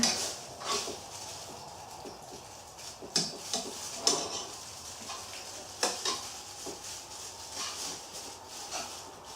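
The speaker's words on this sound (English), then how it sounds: "we're going to mix that into the sauce" A spoon stirs Parmesan cheese into sauce in a pan, with repeated scraping strokes and light knocks against the metal over a soft sizzle, close and without talk.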